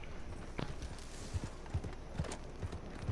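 Horse hooves clip-clopping in the Red Dead Redemption 2 video game, a run of distinct, fairly close thuds falling in an uneven gait over steady background ambience.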